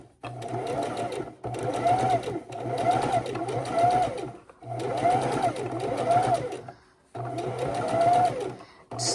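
Sewing machine stitching a pillow, a rapid whirring chatter running in four separate bursts with brief pauses between, close and fairly loud, with no talk.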